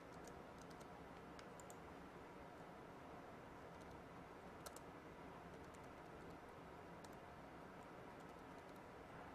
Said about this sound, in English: Small keyboard here, and it's hard to type sometimes.